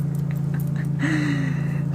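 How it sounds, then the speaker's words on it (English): A loud generator runs outside, giving a steady low drone that holds unchanged for the whole stretch, with only faint, scattered sounds over it and no talking. "is that generator really loud"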